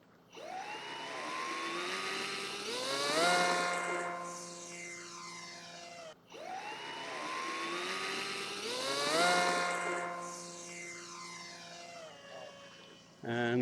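A Sky Surfer X10 RC trainer plane's electric motor whines up at takeoff, its pitch climbing and sweeping in two near-identical rising passes, loud and close, with a brief drop between them.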